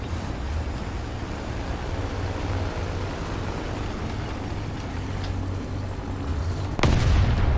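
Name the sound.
tank shell explosion in War Thunder video game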